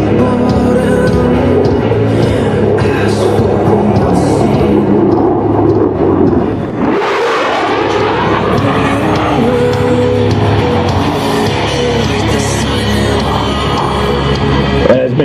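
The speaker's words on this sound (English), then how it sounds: "it's Major Corrigan, rock and rolling the F-16 at speeds reaching 650 miles per" An F-16 Viper fighter jet roars past at an air show, a loud continuous engine rush that swells into a sharp whooshing peak midway and then a long rumbling fade.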